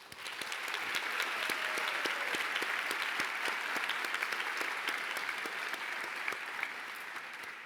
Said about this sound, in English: We applaud you, Josh, and wish you all the best